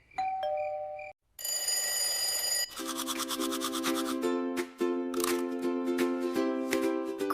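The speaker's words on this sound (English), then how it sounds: "Set your alarm." A cartoon alarm clock goes off in a children's animation: a few short chimes, then a bright, rapidly repeating ringing tone that keeps going, with no voices.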